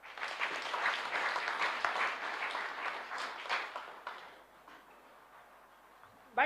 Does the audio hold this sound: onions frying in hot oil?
no